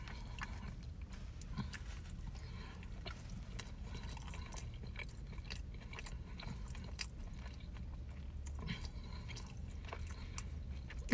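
Barbecue sausage from a food trailer being chewed up close, with a continuous quiet, moist mastication and faint crunchy bites over a low background hum, without speech.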